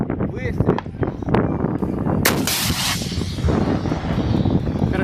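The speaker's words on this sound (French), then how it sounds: "je vous mets la lance-roquette maintenant" Real-life rocket launcher firing, heard as a loud sudden blast with a long roaring, rumbling tail, among other booming shots and talk.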